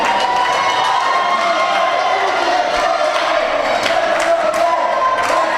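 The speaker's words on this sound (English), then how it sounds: "The crowd's getting behind it." A wrestling event crowd cheering and shouting, a continuous loud roar of many voices with whoops rising above it throughout.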